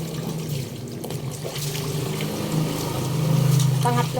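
Laundry being rinsed by hand in a basin of water on a third rinse, with continuous close sloshing and trickling that swells toward the end, with a faint background hum.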